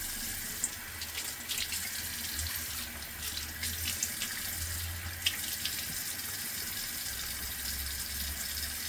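Water runs steadily from a tap into a sink while someone gets ready for a shave. The flow is continuous and fairly close, with no talking over it.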